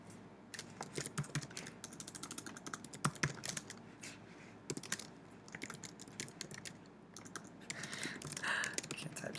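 Fingers tapping on a computer keyboard, quiet and close, in quick irregular bursts of clicking with short pauses, some keystrokes sharper than others and a slightly busier patch near the end.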